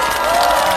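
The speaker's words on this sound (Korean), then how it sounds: "박수 한번 주세요." A crowd applauds and cheers at a Lee Jae-myung political speech in Songpa, Seoul: a steady, dense wash of clapping and shouting that fills the whole brief moment at full volume.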